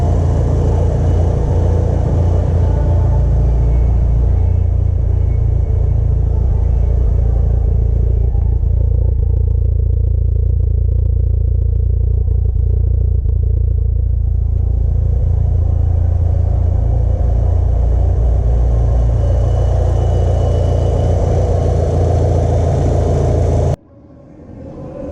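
A Mitsubishi Evo 4's 4G63 engine idles steadily up close for about 24 seconds, a loud, even low rumble with light mechanical clatter, then cuts off abruptly near the end.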